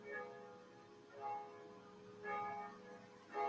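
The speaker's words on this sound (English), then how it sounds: "Now they're going to ding dong the church bell for the next half hour." Chimes from a Swiss clock that plays music before the hour, sounding like church bells: a few faint, distant bell tones in separate bursts over a quiet background.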